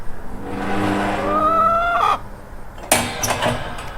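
Chickens cluck in a backyard chicken area, close by and loud, with a drawn-out rising call and then a burst of shorter clucks.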